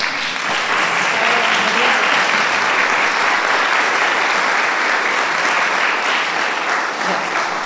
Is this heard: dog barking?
no